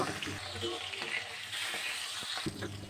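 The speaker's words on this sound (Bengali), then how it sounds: "ভেজে নিচ্ছি মাছগুলো।" Rohu fish pieces fry in hot oil, a continuous close sizzle with a few soft knocks and stirring sounds and no speech.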